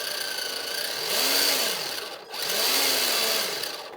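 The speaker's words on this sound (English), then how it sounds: "here's the 417 hooked up to the transmitter, and we are in the medium gear" An HG-P417 RC truck, a Tamiya-clone model with permanent four-wheel drive, runs its electric motor and gearbox in medium gear, a steady whirring drone that swells in pitch twice in a row, close and loud with no talk.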